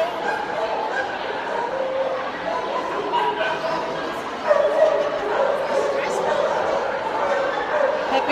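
Puppies yip and bark in a busy room at an animal adoption event, their small high cries scattered through a steady din of people talking.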